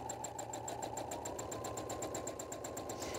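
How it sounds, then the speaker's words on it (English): A sewing machine fitted with a darning foot stitches around an applique shape on a Halloween treat bag, giving a steady, rapid, even mechanical whir with regular needle ticks, close and continuous. "drop your needle down to start, and then stitch a couple of times"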